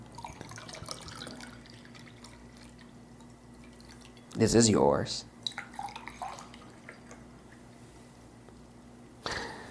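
Water is poured briefly into drinking glasses during a classroom English lesson, a short splashing burst in the middle with a few small drips afterward, framed by a quiet room and a speaking voice.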